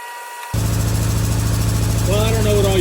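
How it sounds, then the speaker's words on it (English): After a Holley carburetor rebuild, an engine fires up and runs at a loud, steady idle with a throbbing pulse close by. A voice speaks over it near the end. "we literally have just started it and it fired right up once it pumped fuel in"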